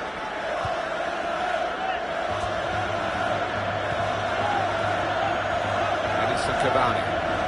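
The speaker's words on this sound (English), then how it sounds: "Crowd settling back down here in the Santiago Bernabeu Stadium." A stadium crowd at the Santiago Bernabeu in the FIFA 18 football video game, a steady broad roar of many voices settling into a murmur, with a low sustained hum running underneath throughout.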